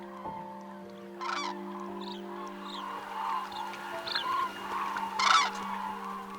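A flock of cranes calling at dawn in a Baltic national park, loud trumpeting honks rising in bursts over a steady low drone, with a continuous chorus of more distant calls behind.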